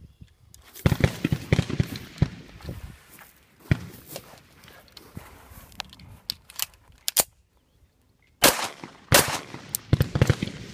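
Handgun shots from a live-fire demonstration of a pistol with a passive firing pin, several sharp, loud reports spaced irregularly, with a quiet stretch between them, a closely grouped burst near the end and handling noises in between.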